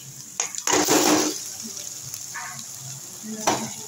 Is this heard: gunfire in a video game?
no